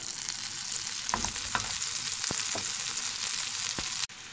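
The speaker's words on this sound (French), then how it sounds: "Je commence par faire fondre mon beurre." Butter melts and sizzles in a pan, a steady crackling hiss with several spatula taps and scrapes, cutting off abruptly near the end.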